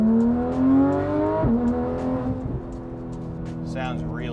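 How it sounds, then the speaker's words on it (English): A 2016 Porsche 911 GT3 RS in sport mode with Soul exhaust opened up, running loud and close as it accelerates with a rising engine note and a sharp shift near mid-clip, then builds again. A voice talks over it. "Let's open up the exhaust. Let it shift in a second. And then give it some."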